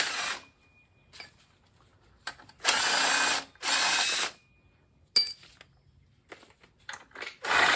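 Power tool bursts while removing the alternator from a 1961 Rambler engine: two sustained loud whirring runs with a ratchety edge, framed by short clicks, clunks and taps of tools against metal, no talking.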